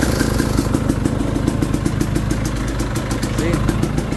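A 2020 KTM 300 XC TPI dirt bike engine idles steadily with a rapid, rattling putter, loud and close, holding an even pitch throughout.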